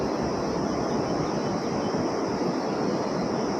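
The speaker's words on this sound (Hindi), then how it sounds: "वहाँ से ये पानी का झरने का पूरा आवाज़ आ रहा है" Waterfall near Nagarkot, Nepal, a constant broadband rushing of falling water, steady and fairly loud throughout, with no speech or other sounds over it.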